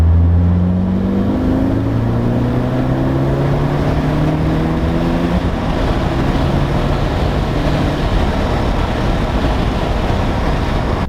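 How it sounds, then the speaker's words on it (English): A B7 Audi A4 fitted with a K04 turbo pulls hard through third gear from about 35 mph, the engine tone rising steadily with loud, constant intake and exhaust roar and wind noise throughout. "Third gear pull from 35 miles an hour."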